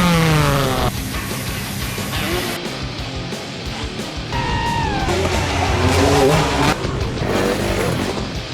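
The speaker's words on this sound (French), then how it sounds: "la moto de Julien elle est pas très bruyante, c'est un 125 CRF 4 temps donc top." Enduro motorcycles setting off on a trail ride, a Honda CRF 125 four-stroke alongside an electric Alta: a close, loud engine revs and rises and falls in pitch, with a whining tone sweeping upward midway through.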